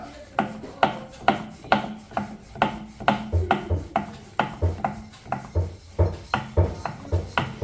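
Chapati dough being rolled out with a rolling pin, hands kept off the dough, giving a steady run of rhythmic rubbing and knocking strokes on a board, close and fairly loud, with no talk.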